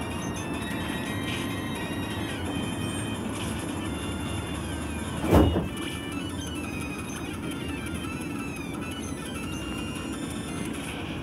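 A metro train on the Los Angeles Expo Line near Jefferson/USC Station rumbles steadily in a loud, continuous drone, with a brief clank or thump partway through and no voices.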